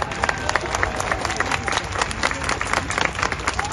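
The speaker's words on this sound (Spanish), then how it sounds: "Un fuerte aplauso para ellos." Crowd applause at a street parade for the Revolution anniversary in Tijuana, honoring a canine police unit; dense, steady clapping from many people throughout, with faint voices mixed in.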